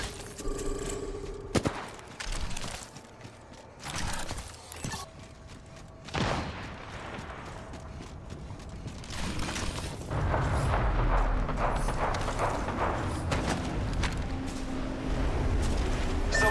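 Gunfire from an Xbox shooter game comes in scattered sharp shots and bursts, then turns into a dense, sustained barrage of loud firing and blasts in the second half.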